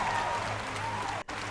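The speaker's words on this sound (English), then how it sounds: "The crowd are losing it." Crowd applause and cheering at The Game Awards 2022 ceremony, a dense steady roar of clapping with a sustained tone over it and a brief dropout near the end.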